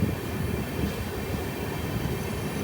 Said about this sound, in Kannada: ಒಂದು ಟ್ರೈನ್ ಬರೀ 1 ನಿಮಿಷ ಹಾಲ್ಟ್ ಕೊಟ್ಟು ಡಿಪಾರ್ಟ್ ಆಗ್ತಾರೆ